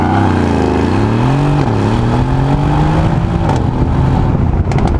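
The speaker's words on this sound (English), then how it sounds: "This 2025 kilogram GLC will accelerate from 0 to 100 kilometers an hour in" Mercedes-AMG GLC 63S, a 2025-kilogram SUV, launching hard with launch control, its loud engine note climbing steeply through the gears with brief dips at each shift, close and continuous.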